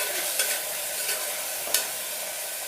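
Methi pulao rice with salt being stirred in a hot pan, a continuous sizzle broken by a few sharp scrapes of the spoon against the pan.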